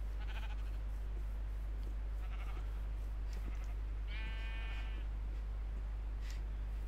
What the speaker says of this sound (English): Damn sheep.